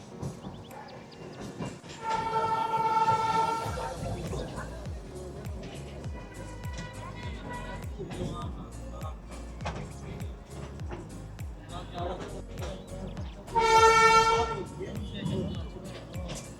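Darjeeling toy train rolling past on its hill railway, with a continuous rumble of wagons and two loud horn blasts, one early and one near the end, while people talk faintly.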